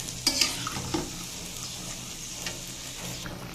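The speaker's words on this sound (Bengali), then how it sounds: "দেখুন, ঝোলটা ফুটে গেছে" A bean and potato curry gravy simmers in a pan with a soft, continuous bubbling sizzle. A couple of light utensil clinks come near the start, and no one speaks.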